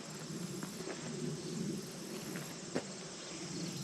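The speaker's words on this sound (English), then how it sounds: "There's just bees everywhere." A steady insect buzz fills the air, like many bees droning together in a garden in full bloom, continuous and moderately close with no talking.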